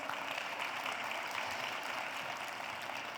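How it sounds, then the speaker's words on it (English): Conference plenary audience applauds, a dense even wash of clapping heard faintly and steadily for a few seconds. "A huge round of applause for yourselves."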